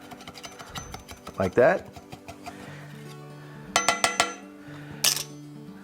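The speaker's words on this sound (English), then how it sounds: "run a little spatula around the end" A spatula scrapes and clinks around the edge of a cornbread pan, a few brief metallic scrapes and knocks spread across the clip, with someone talking quietly between them.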